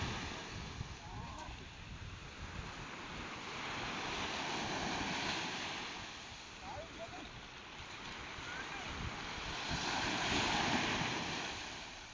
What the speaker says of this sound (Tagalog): medyo nalagpasan na namin yung medyo malalaking alon na